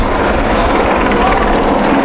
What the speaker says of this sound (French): Après il y a un hélicoptère au-dessus.